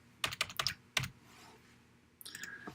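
Keys clatter on a computer keyboard in a few quick bursts, close and clear, with a short pause before a final flurry of clicks.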